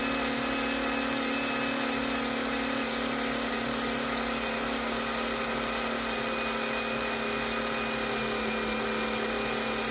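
A motor spins on a dyno powered at 18.5 volts, a steady high-pitched electric whine with a constant hum that holds unchanged and fairly loud throughout, with no voices.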